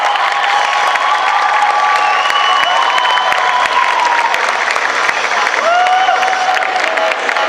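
A cosplay contest audience breaks into loud, sustained applause with whoops and cheering from the crowd, a dense wash of clapping that holds steady throughout, with a few raised voices rising above it.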